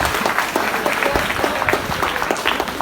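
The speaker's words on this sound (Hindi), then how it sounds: "जोरदार ताली बजाओ इसके लिए" Applause from a school audience fills the room, many hands clapping in a dense, steady patter that stays loud and close throughout.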